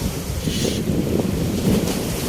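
Continuous wash of sea waves on the shore in south Cebu mixed with wind buffeting the microphone, steady and fairly close.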